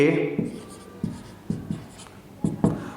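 Marker strokes on a board during a trigonometry lesson, short scratchy scrapes and taps arriving in irregular clusters, close and clear, with a voice present at times.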